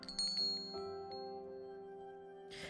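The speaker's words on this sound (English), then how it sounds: "The wind chime by the back door rings once as Zayne walks into the yard." A wind chime by a back door rings once, several bright metallic dings and a lingering shimmering tone that slowly fades, soft and alone.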